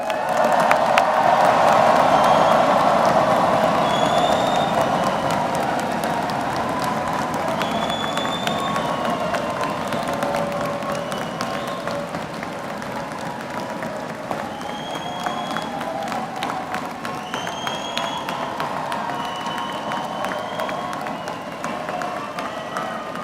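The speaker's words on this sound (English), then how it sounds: "Let's give all of us a huge round of applause and make sure the noise reaches as far as possible." A large commencement crowd claps and cheers at a 2023 business school master's and doctoral ceremony, a dense burst of applause loudest at first and easing into sustained clapping, with scattered whistles and whoops throughout.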